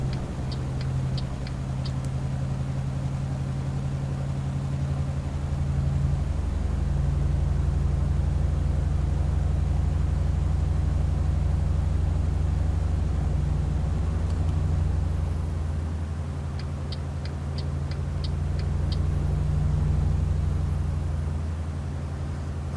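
A Mercedes NG1631 truck in Euro Truck Simulator 2 drives through countryside with a steady, deep engine rumble that swells slightly at times. Rapid indicator-like ticking comes in short bursts near the start and again near the end.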